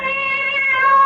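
One sustained, plaintive meow from a cat outside a house, loud and near, lasting about a second and rising slightly in pitch toward the end.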